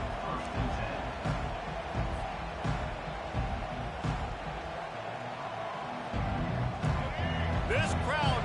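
A large stadium crowd roars steadily at a college football game in NCAA 25, with sharper surges of cheering and noise rising near the end, under a commentator's voice.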